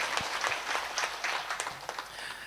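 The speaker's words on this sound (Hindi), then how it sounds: "एक बार गीसूलाल जी मरोठिया के लिए जोरदार ताली बजा करके इनका उत्साहवर्धन करें" An audience claps at a Bhagavat katha gathering in a Maheshwari Bhavan hall in Vrindavan, a dense, steady wash of hand claps with scattered sharper slaps, fairly close and sustained throughout.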